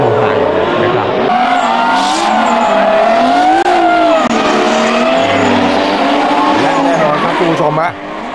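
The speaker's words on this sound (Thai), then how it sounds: "เอารถมา5คันมาดิฟโชว์เลยนะครับเขาเรียกว่าดิฟเป็นรูปโดนัทนะบนถนนนะครับ" Engines roar continuously as five cars drift donuts on a city street in Bangkok, tires squealing and wailing in long sweeping tones, with a crowd's noise underneath; the roar drops abruptly near the end.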